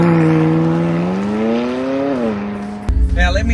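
A McLaren 540C sports car pulls away with a rising, revving engine note that holds steady, then cuts off into a sharp burst of closer rumbling noise near the end.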